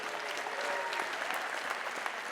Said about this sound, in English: He brought a cheering section too.